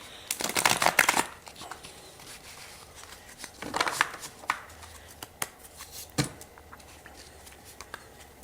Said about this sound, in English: I like to look at the cards when I split the deck before I shuffle what's there